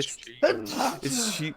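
A single sharp sneeze bursts out close to the microphone in the middle of a casual conversation, surrounded by quick speech from the people talking.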